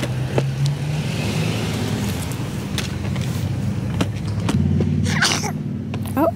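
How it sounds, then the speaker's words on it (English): A small child sneezes inside a moving car, one short sharp burst near the start and another later, over the steady low hum and rumble of the car interior. "He sneezed."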